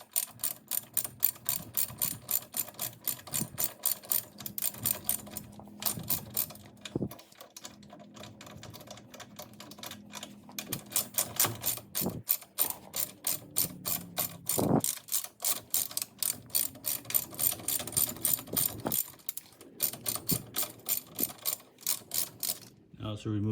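A ratchet clicks in long, steady rhythmic bursts while loosening the long 19mm brake caliper bolts on a Lexus LS430 front wheel, close and loud with brief pauses between runs and no talking.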